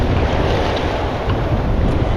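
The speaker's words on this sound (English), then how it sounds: "The waves are hitting me about mid-thigh." Ocean surf surging around a person wading at mid-thigh depth on a shell-hunting beach, a loud, continuous wash of waves with heavy wind rumble on the microphone.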